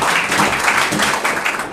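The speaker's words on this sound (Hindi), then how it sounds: "आपकी बहुत सारी तालियों में शफीक जान" An audience claps at a college event, a steady, dense patter of many hands that holds at an even level for the short stretch.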